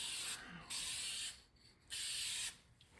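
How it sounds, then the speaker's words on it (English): Two sustained bursts of aerosol clear coat spray hiss on a car mirror, each about a second long, separated by short pauses; close and fairly loud, with no talking. "When you're spraying, don't go heavy."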